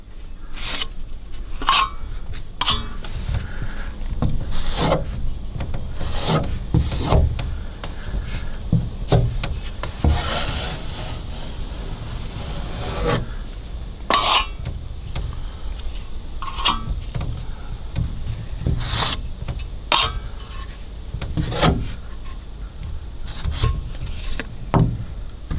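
A scraper spreads and smooths Turbo Builders Bog wood filler over a rotted wooden window frame in repeated scraping and rubbing strokes, close up, with a longer continuous scrape midway and no talking.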